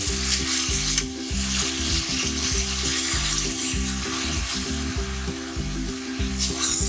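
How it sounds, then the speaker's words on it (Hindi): Potato and eggplant pieces for aloo baingan sizzle and fry steadily in a hot pan, a continuous loud crackling hiss with a low rhythmic undertone throughout. "पानी डाल करके इसको थोड़ा सा भूनेंगे,"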